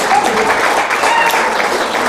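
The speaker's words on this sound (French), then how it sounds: "nous applaudissons le coup" An audience breaks into applause after a card trick reveal at a small Friday concert show, a dense burst of clapping heard up close and continuing without pause.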